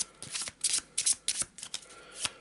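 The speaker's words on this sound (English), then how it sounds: "I'm going to give it a shuffle." A deck of cards for the board game Perdition's Mouth: Abyssal Rift is shuffled close up, giving quick bursts of riffling and flicking cards in uneven clusters with brief pauses between.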